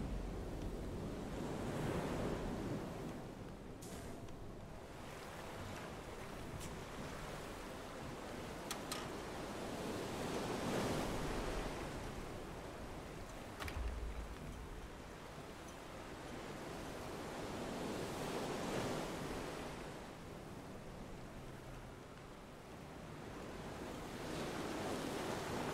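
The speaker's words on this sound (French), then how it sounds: "Non, c'est un peu de vent." Wind and ocean surf from the sailing video game FAR: Changing Tides, a steady broadband wash that swells and recedes in slow waves, with gusty rushes and occasional faint clicks, no voices.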